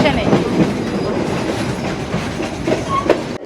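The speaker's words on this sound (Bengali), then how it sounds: "আর ঢুকে গেল আমাদের ট্রেন পানাদুরা রেলওয়ে স্টেশনে" A train pulls into Panadura railway station in Sri Lanka with a steady rolling rumble and rhythmic clickety-clack of wheels over rail joints, ending in an abrupt cut.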